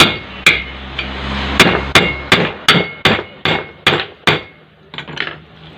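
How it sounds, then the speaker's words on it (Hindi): A hammer strikes a ceiling fan's bearing to knock it loose during repair: about a dozen sharp, close metallic blows in a steady rhythm, with no talking. "फिर हमें यहाँ पे इसको हथौड़ी से ठोक लेना है।"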